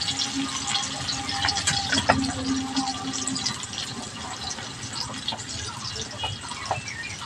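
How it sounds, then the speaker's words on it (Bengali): Cooking oil is poured into a pan of sliced onions for a Bengali fish bhuna, giving a steady liquid gushing and trickling hiss that carries on throughout at moderate level, with no one talking. "এবার তেল দেয়া হচ্ছে তেলগুলা ঢেলে দিয়ে"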